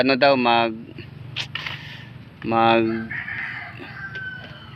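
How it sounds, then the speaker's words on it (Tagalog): A rooster crows loudly nearby in a rural Philippine province, followed by scattered clucking and a second crow, with people talking in the background. "Mayroon pang manok."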